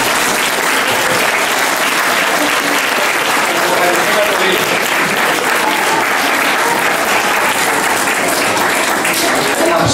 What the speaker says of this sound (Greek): Ένα τεράστιο χειροκρότημα για αυτούς που τους ενδιαφέρουν.